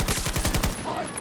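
Rapid automatic gunfire in the video game Battlefield 2042 during a large conquest battle on Manifest, a loud close burst of quick shots that stops abruptly and leaves a short fading echo.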